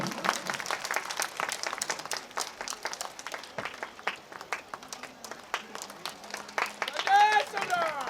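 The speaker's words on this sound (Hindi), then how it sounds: "आप लोग ताली तो बजाते रहे कम से कम" Audience at a community celebration of Emperor Ashoka's birth anniversary keeps clapping in uneven bursts, with a voice speaking over the applause throughout.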